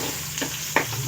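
Seasoning spices crackle briefly in hot oil during tempering for a potato fry, a couple of soft sizzling pops over a low hiss.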